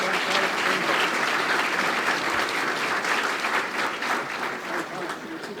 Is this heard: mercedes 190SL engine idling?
no